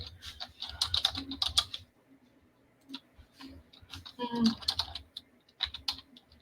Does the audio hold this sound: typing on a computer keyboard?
yes